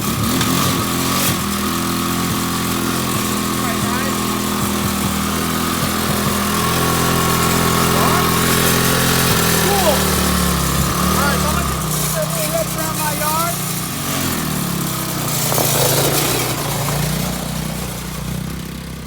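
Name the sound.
1986 Honda ATC 200X three-wheeler engine starting and running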